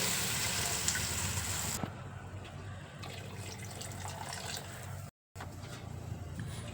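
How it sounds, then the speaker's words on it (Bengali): Water is poured into a pan of potatoes fried with spices for a fish roe curry, a steady splashing pour that starts loud and then settles into a softer, continuous trickle, with a brief gap near the end. "এরপর এর মধ্যে দিয়ে দেব পরিমাণ মতো জল"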